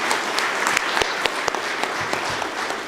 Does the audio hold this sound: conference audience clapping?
yes